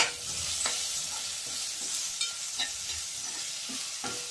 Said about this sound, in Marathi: धणे पावडर, जिरे पावडर, थोडा गरम मसाला टाकूया आणि मसाला, आणि हे परतून घ्यायचे।